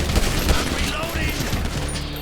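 Rapid, loud gunfire in the GTA V video game, with dense bursts of shots aimed at a gas can during a firefight and game voices mixed in.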